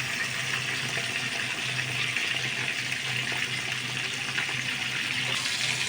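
Hot water runs steadily from a kitchen tap while rice is rinsed, a continuous close, even hiss and splash lasting the whole stretch without pauses or voices.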